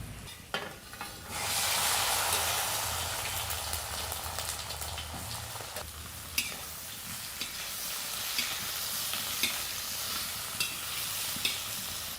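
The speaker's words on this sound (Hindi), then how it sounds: "तो हमने इसको चढ़ा दिया है, काहे कि इसमें मसाला भूंजेगा।" Masala spices frying in homemade oil for a jackfruit curry at home, a steady loud sizzle that swells after the first second and holds, with occasional sharp pops and stirring clinks, no talk.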